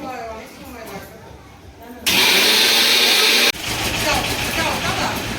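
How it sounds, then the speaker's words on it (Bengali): Whole coriander and cumin being ground into spice powder at home. A quieter stretch gives way to a sudden loud, steady whirring roar, which drops to a slightly lower, rougher grind partway through. "ধনে জিরে সব গোটা কিনে ঘরে গুঁড়িয়ে মশলা তৈরি হচ্ছে"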